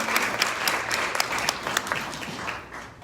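A small indoor audience at a community co-op gathering applauds steadily for about three seconds, scattered sharp claps over a dense patter that fades slightly at the end.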